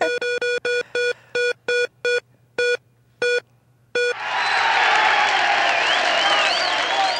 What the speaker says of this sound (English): And once again, the crowd goes wild.